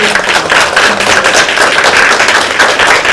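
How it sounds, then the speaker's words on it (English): An audience at a blockchain music and media panel applauds the panelists, a loud, close burst of clapping that holds steady for a few seconds with no voices over it. "I want everyone to give them a big applause."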